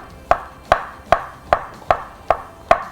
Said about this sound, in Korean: 반으로 한번 썰어주시고